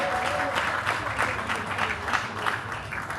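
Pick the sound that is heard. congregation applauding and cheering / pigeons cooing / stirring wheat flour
congregation applauding and cheering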